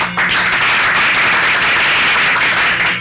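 Wedding guests break into loud, sustained applause, a dense crowd of many hands clapping steadily for a few seconds with no talking over it.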